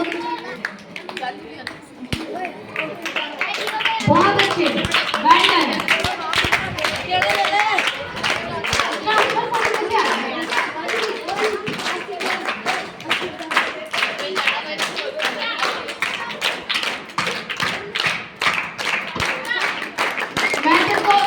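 Children clap for the winners of a girls' and boys' first-category event, a lively, uneven burst of many hands that builds quickly and then keeps going, while an adult speaks over it with short words of praise.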